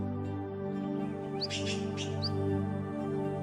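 Birds chirp in a few short, bright calls, spaced out over a steady low droning background, fairly clear and close, with no voices.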